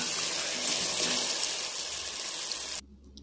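Diced potatoes fry with tomatoes in a pan for a kofte curry, making a loud, steady broadband sizzling hiss that cuts off abruptly shortly before the end.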